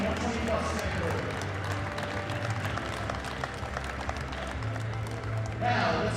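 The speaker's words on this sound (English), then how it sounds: "Round of applause for all competitors on platform 2" Audience applause for competitors after the Masters 2 120 and 120+ kg classic bench press flight at a world championships, sustained clapping from a sizable crowd, steady and fairly loud, with a voice talking underneath.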